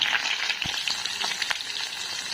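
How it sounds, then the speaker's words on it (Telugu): Sliced onions, urad dal and mustard seeds fry in oil in a kadai, giving a bright, steady sizzle with light crackles and a faint stir or two, close and alone. "కడాయిలో ఆయిల్ వేసుకొని అందులో కొద్దిగా ఉద్దిపప్పు ఆవాలు వేసుకుని ఆ తర్వాత ఎర్రగడ్డ వేసుకోవాలి."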